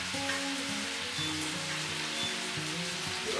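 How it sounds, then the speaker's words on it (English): Chopped onion fries in a pan while venison casserole is being made. A close, steady sizzle and crackle runs throughout with a low background hum, and nobody talks. "The onion's frying away."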